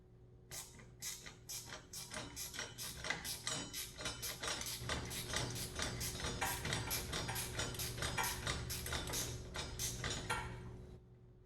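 A wrench turns continuously on a bolt during assembly of a Maslow M2, producing a long, even run of close ratcheting clicks that lasts about ten seconds and then stops.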